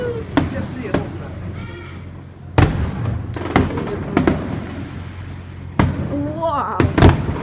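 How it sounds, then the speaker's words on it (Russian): A fireworks salute display goes off in a series of sharp booming bursts and crackles at irregular intervals, moderately distant, with excited voices talking in between. "Вот это салют!"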